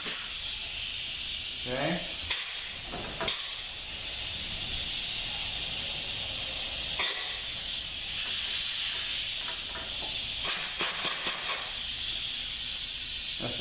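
Compressed air blasts into a transmission clutch passage during an air check on a 722.6 NAG1 automatic, a loud steady hiss throughout with short bursts and clicks on top, and a brief spoken word near the start.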